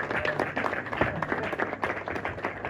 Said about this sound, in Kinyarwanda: Amashyi menshi cyane ngaho muhobere umara urukumbuzi.